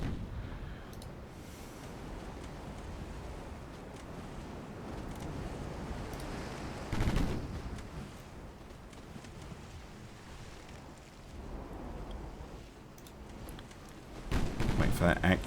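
Naval guns fire on a transport ship in a wartime naval strategy game, with muffled booms over a steady rumble of wind and engine noise, a heavier volley near the end, and someone talking throughout.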